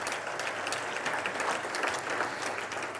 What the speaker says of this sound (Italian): di Alessandro Morricella e Giacomo Campo, fate un applauso anche a loro due